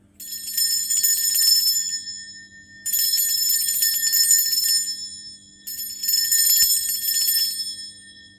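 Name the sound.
bell ringing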